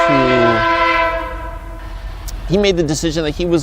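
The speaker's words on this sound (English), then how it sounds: "the train, just a second" A passing train sounds its horn in long sustained blasts, followed by a wavering pitched horn or squeal as it rolls by, loud and near, with a voice speaking over part of it.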